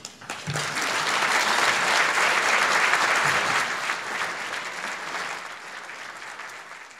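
A banquet audience at an anniversary celebration applauds to welcome General Hodges to the stage, the clapping rising quickly, holding loud and full, then gradually tapering off.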